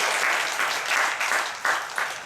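A congregation at a revival service in a Korean prayer-retreat hall applauds in waves of steady, moderately loud clapping, with no voices over it.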